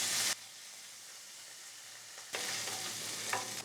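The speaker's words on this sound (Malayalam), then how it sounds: "ഒരു ടേബിൾ സ്പൂൺ ഇഞ്ചി ചതച്ചതും ഇട്ട് കൊടുക്കുക ഒന്ന് വഴറ്റി കൊടുക്കുക" Crushed garlic and ginger sizzle and fry in a hot pan with oil, a soft steady hiss after an opening clatter of stirring, then brightening again as the ingredients are stirred, with no talk.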